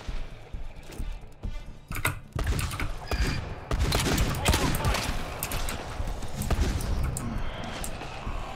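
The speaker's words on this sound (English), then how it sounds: "I'm shooting in between them" Gunfire in the game GTFO, dense rapid bursts of shots close and loud that thicken into sustained firing, with a voice talking over them.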